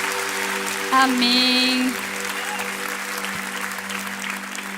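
Church congregation applauding at a worship service, a steady wash of clapping running the whole time under sustained organ or keyboard tones, with a brief sung or spoken interjection near the start.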